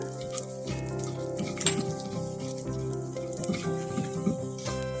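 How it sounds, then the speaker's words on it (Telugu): Cumin seeds frying in hot oil with cloves for a spicy dhaba-style dal tadka, a steady close sizzle with small crackles and the occasional scrape of a spoon in the pan. "ఇప్పుడు జీలకర్ర అండి, ఇది ఫ్రై చేసుకోవాలా"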